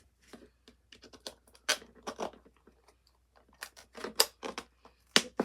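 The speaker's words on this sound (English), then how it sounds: "Let's see if I can get my scissors in there." Scissors cut into a plastic dog watering bowl in a craft project, producing close, intermittent snips and crunchy scratching bursts with quiet pauses between.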